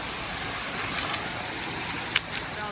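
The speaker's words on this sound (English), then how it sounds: "it's pouring down rain" Heavy rain pours down outdoors near rocks and a small waterfall slide, a dense steady hiss with a few sharp drip or splash ticks.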